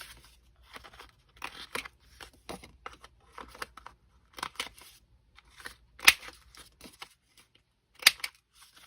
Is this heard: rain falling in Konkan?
no